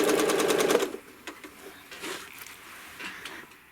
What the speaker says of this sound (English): stitch down to it, and stitch around the ruler.